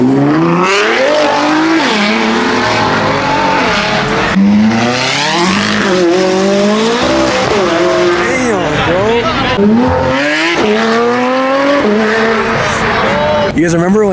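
A sports car at a busy car meet launches hard, its engine revving high and sweeping up and down through repeated bursts with tire squeal, loud and close over excited shouting from the crowd.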